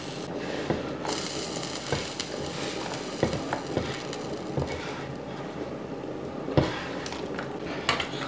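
A spoon stirs dumpling soup with meat and hearts in a pot, giving irregular metallic clinks and scrapes against the sides over a soft, simmering background.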